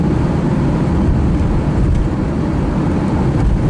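A car cruising along the A13 road between Benfleet and Basildon in England gives a steady, loud, low road-and-engine rumble that holds constant throughout, close and unbroken, with no voices.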